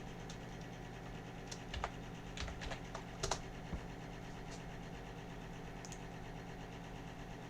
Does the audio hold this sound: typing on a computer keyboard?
yes